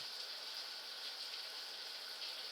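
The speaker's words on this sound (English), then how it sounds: "that sound is the sound of the shower running behind this locked door" A shower runs behind a locked hotel room door in a video game, heard as a steady, faint, hissing wash of water that stays unbroken throughout.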